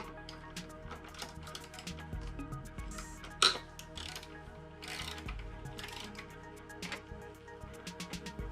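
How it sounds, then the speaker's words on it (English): A ratchet clicks close by while screws are loosened on a Vstar motorcycle headlight bucket, with a sharp metallic clink partway through. "So here I will loosen these three screws up, then I'll be able to pull the actual bucket"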